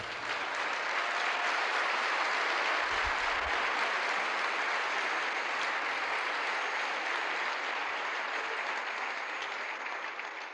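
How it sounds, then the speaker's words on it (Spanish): A church congregation applauds steadily during a Spanish-language evangelical sermon, a dense, even wash of clapping that carries on for about ten seconds with no break and tapers only slightly at the end. "le damos un aplauso al Señor."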